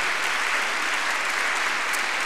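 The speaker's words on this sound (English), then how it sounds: "Let's have another round of applause for Chief Bryan LaForme" Steady, dense applause fills the hall at the Heritage Toronto Awards ceremony, an unbroken wash of many hands clapping for Chief Bryan LaForme.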